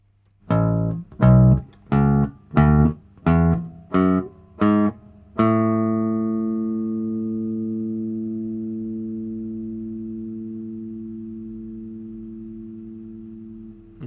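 Bass guitar climbs a scale in seven evenly spaced plucked notes, and the last note rings on and fades slowly, clean and close with no other sound.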